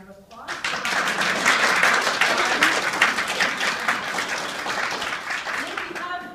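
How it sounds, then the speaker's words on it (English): Audience breaks into a loud, sustained round of applause for a certificate of appreciation presented at a talk, rising quickly and holding steady before fading. "if you would join me in a round of applause."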